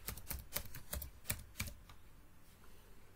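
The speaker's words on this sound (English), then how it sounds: "you type email that you want to use" Keys of a computer keyboard clack in short bursts while an email address is typed, a quick run of crisp close taps that stops after about two seconds, leaving quiet.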